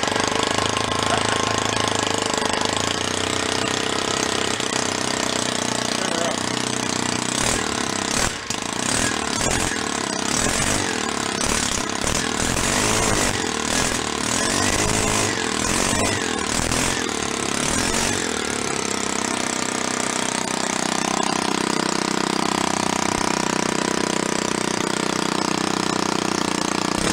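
A small 4-stroke string trimmer engine, a worn unit salvaged from the dump, runs loud and close for the whole stretch, holding a steady buzzing drone with a rough, uneven patch of sputtering midway.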